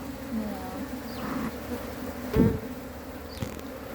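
Honeybees buzz around an open hive as they drink honey, a close, steady hum with individual bees droning past, and a brief louder buzz midway.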